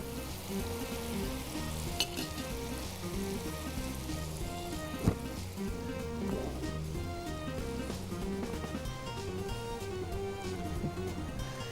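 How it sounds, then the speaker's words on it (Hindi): Kashmiri red chili paste frying for korma daal, a dense continuous sizzle like light rain on a surface, with a couple of faint stirring knocks and no voices. "जिसका कि मैंने पेस्ट बनाया हुआ है, वो मैंने इसमें डाल दी है। अच्छा, ज़रा सी भुनाई हो जाए।"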